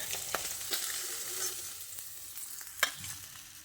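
Pieces of katla fish fry in hot oil in a pan, giving a continuous close sizzle broken by sharp crackles and a louder spit near the end, with no speech.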